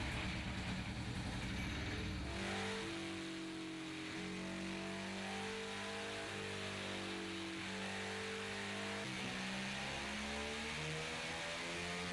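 A car engine revs up and down repeatedly, rising and falling in pitch, loud and close with no one talking.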